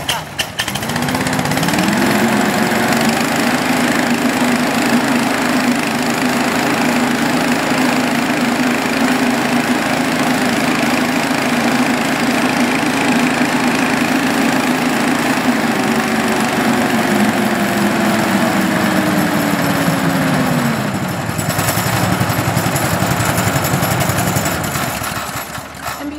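A gas leaf blower's small two-stroke engine starts up and runs steadily at a high, buzzing pitch for about twenty seconds, loud and close, then winds down and stops.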